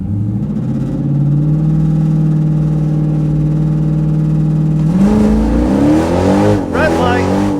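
A drag racing car, likely a bracket-class entry lined up against a Dodge Demon 170 at a season-opener strip in Orlando, holds a loud steady engine drone that then rises sharply in pitch as it accelerates, with a shift-like dip and climb near the end.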